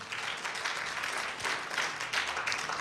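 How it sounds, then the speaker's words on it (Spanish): A church congregation breaks into loud, sustained applause for the Lord during a Spanish-language sermon, dense clapping rolling steadily throughout with no voices above it. "Dale ese aplauso fuerte al Señor"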